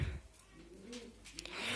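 Soft, low pigeon cooing, a few rolling coos close by in a quiet pigeon loft.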